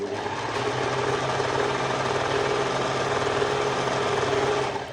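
Sewing machine stitching fabric for a ruffled mini skirt: a steady, continuous fast whirring hum running the whole time, close and alone.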